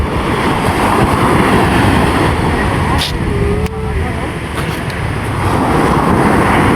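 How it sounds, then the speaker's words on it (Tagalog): Heavy surf rolls and surges loudly and steadily close to the shore, mixed with gusts of wind noise striking the microphone, and the roar keeps on with no break. "Laki pa rin ang alon."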